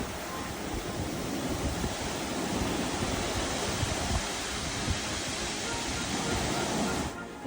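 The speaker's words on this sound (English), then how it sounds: "enjoy the sound of the waves coming through these volcanic rocks underneath you" Ocean waves surge through volcanic lava rocks beneath a sea cave on Maui, a continuous rushing, churning wash with gusty wind noise, steady and loud throughout.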